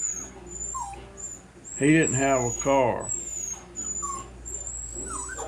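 A dog whimpers with a few short, high, wavering whines under a man's ongoing speech, faint and intermittent against a low steady background hum.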